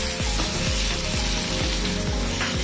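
Tomatoes and bay leaves sizzle steadily in hot oil for aloo biryani, giving a loud, continuous frying hiss with faint rhythmic stirring scrapes.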